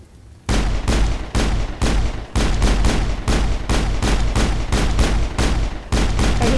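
Loud gunfire from the video game Mass Effect, heard as a steady stream of rapid automatic bursts with short gaps between them and no talking.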